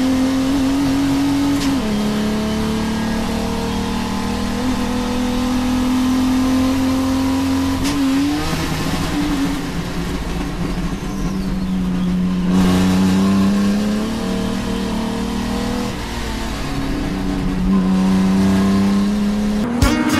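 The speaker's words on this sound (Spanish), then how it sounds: "Vamos a meternos arriba del auto de Andresito de Tomás para dar una vueltita." Onboard a Chevy 4000 limitado race car lapping the Baradero circuit, the engine droning loud and continuous as it revs up and down through gear changes, with occasional tire noise, no talk.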